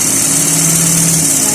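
A sewing machine stitches elastic into a trouser waistband, a loud continuous motor drone with a steady hum and no breaks, heard up close without speech.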